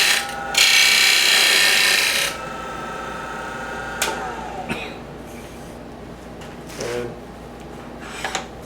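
A wooden box turned on a faceplate lathe has its edge chamfered, with a brief loud scraping cut followed by scattered clicks and knocks over a low motor hum.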